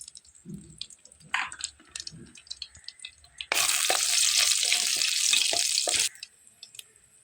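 Dried red chillies, bay leaf, cloves, cinnamon and cardamom hit hot oil for a rohu fish-head muri ghonto, bursting into a loud, dense sizzle that lasts a few seconds after some light kitchen clatter, then cuts off abruptly.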